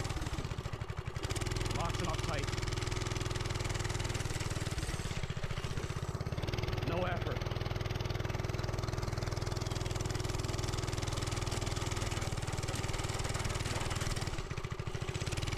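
A minibike's small engine runs steadily at idle for the whole stretch, a low continuous drone close by with a brief throttle change near the start and the end.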